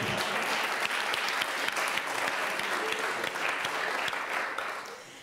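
Audience applause at the Frisian dictation contest, dense sustained clapping filling the hall evenly before tapering slightly at the end.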